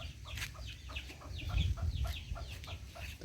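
Chickens cluck close by in steady, overlapping bursts of short calls over a low background rumble, with no one speaking.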